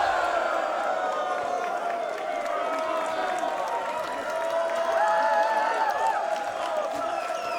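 A PWH wrestling crowd cheers and rises in a steady, loud roar that swells slightly toward the end, with a commentator talking over it.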